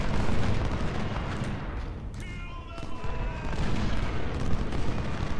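Dense, continuous battlefield din of massed musket and artillery fire in the Civil War strategy game Ultimate General: Civil War, a roaring wash of distant volleys with a brief lull midway.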